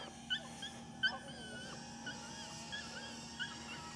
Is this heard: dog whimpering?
yes